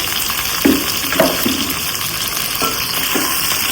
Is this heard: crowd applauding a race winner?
no